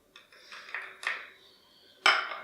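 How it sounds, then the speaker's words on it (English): A jar of Laura Mercier Translucent Loose Setting Powder is tapped against its lid, giving about five close, bright clinking knocks at an uneven pace, with a longer pause before the last and loudest tap. "Just going to tap some into the lid."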